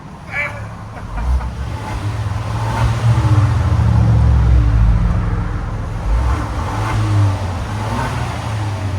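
A Kia Stinger 2.0 Turbo engine revs and roars steadily over heavy rumbling road noise, loud and close, with the pitch swelling and easing.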